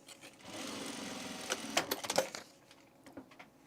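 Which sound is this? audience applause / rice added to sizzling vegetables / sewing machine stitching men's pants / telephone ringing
sewing machine stitching men's pants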